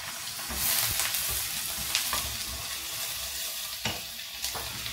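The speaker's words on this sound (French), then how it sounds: "dans une autre poêle, j'ai rajouté un peu d'huile de table et mon bœuf" Beef sizzling in table oil in a frying pan while being stirred, a steady close crackle with occasional scrapes of a utensil against the pan, no voices.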